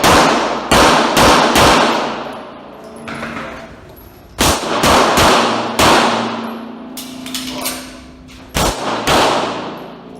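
Beretta 92FS M9 pistol fired at an IDPA shooting match, several loud sharp gunshots in quick pairs and bursts with brief gaps, close and echoing.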